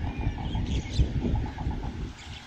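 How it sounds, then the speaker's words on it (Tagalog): Many birds calling at Jumeirah Bay in Dubai, a steady chatter of repeated chirps at middle distance over outdoor background noise, with no talking. "Ang daming ibon, guys."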